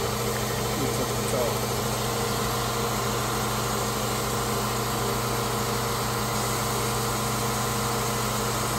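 A 1955 Chevy Bel Air hot rod engine idles steadily at a low, even rumble, held throughout without change in pace.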